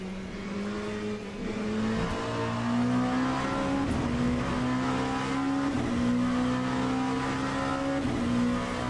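A racing car engine in the video game Le Mans Ultimate drones steadily at high revs during qualifying, its pitch stepping up and down with gear changes and downshift protection, loud and close throughout.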